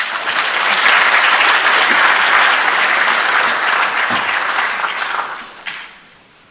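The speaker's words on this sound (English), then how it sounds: "Let's give them a round of applause" An audience at the opening session of a national space conference claps loudly and steadily for several seconds, then the applause tapers off quickly.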